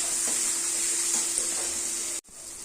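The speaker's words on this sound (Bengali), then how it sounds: "ভালো করে নেড়ে করে কষাতে হবে" Ground coriander and chilli powder soaked in a little water fry in a pan, a steady close hiss with soft stirring scrapes, cut by a brief break near the end.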